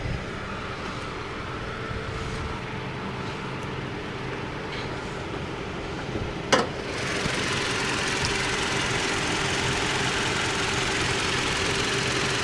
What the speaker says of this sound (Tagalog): Tingnan natin ang makina.